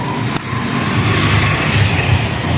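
A road vehicle drives along with a steady, close engine and tyre rumble. The noise runs unbroken and fairly loud throughout, with no talk.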